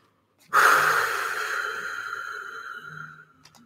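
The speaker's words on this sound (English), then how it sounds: "let me take a deep breath." A person draws one long, deep breath in and lets it out slowly, an airy rush close to the mic that fades gradually, followed by a faint hum.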